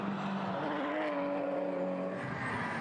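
A race car in a racing video game, its engine a loud, steady, continuous roar with a rising and falling pitch and no talk over it.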